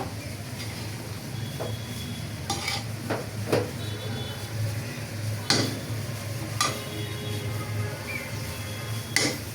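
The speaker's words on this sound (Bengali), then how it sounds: "একটু নাড়াচাড়া করিয়া দেই, যেহেতু বুনা খিচুড়ি একটু জড়জড়া করতাম না" A spatula stirs bhuna khichuri of rice and lentils in a pan, giving a soft sizzle under intermittent sharp metallic scrapes and clicks against the pot, close and fairly quiet, with no talking.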